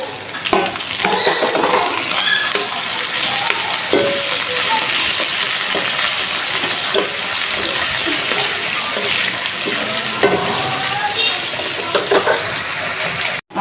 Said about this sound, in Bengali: আর এই যে শুটকিটা তেলের সাথে দিয়ে দিব।